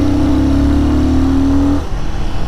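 A Royal Enfield Guerilla 450 motorcycle engine revs with a strong, steady mid-low drone that holds loud and even, then drops off sharply to a lower idle near the end.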